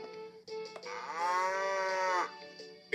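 A VTech Genius Kid toy laptop plays a cow's moo in an animal-sound game, one long, loud, tonal bellow through the middle with short electronic blips before and after, and no talking.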